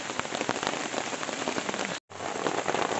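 Steady, dense rain patters on surfaces at a mountain camp on Ciremai, a continuous close hiss that cuts out for a split second before resuming at the same level.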